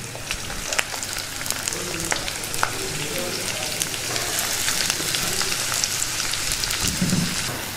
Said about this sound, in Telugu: అలాగే కట్ చేసి పెట్టుకున్న ఉల్లిపాయ ముక్కలను కూడా వేసుకుంటున్నాను.